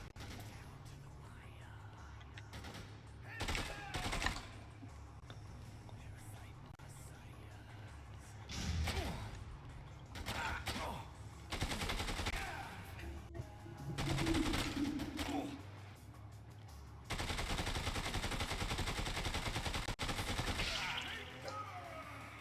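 Assault rifle fire in the zombie game Dead Rising 2, heard as scattered bursts of shots among clattering game noise, with louder dense stretches late on, moderately loud throughout.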